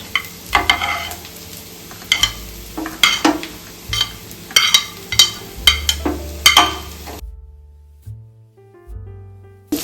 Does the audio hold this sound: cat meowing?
no